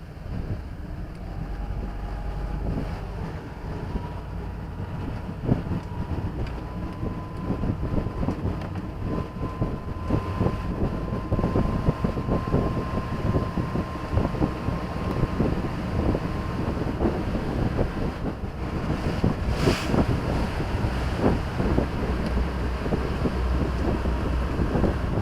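A boat motoring across open water near Adams Key, steady engine drone and hull wash layered under heavy wind buffeting on the microphone, continuous and fairly loud throughout with no talking.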